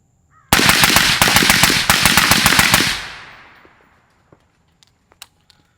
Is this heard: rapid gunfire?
yes